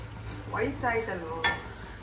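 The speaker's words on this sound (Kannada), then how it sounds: "ಆನಿಯನ್ ಬ್ರೌನ್ ಆಗೋ ತನಕ ಉರೀರಿ" Onions frying in a pan for mutton biryani, stirred with a utensil, giving a soft sizzle under a few scraping strokes and one sharp clink near the end, with a voice speaking over it.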